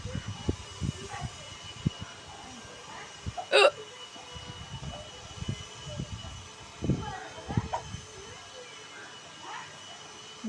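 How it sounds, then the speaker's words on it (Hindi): Hiccups from a mother and her son, sharp short bursts standing out among household noise and chatter, with one loud hiccup near the middle and a few smaller ones later. "मुझे और मेरे बेटे को दोनों को एक साथ हिचकी आई है।"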